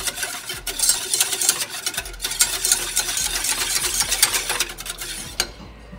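A whisk stirring a cornstarch stir-fry sauce for a Chinese shrimp stir-fry, quick rhythmic scraping and clinking against the bowl, steady and close throughout.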